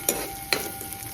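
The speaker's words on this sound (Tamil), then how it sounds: "நான் பெரிய பர்னரில் ஹை ஃப்ளேமில் எரிய விட்டுருக்கேன். ஸோ டாஸ் பண்ணி குக் பண்ணுறேன்." Vegetable fried rice with beans and carrots tossed in a pan over a big burner on high flame, with two sharp clatters of food landing in the hot pan over a steady low sizzle, close and moderately loud.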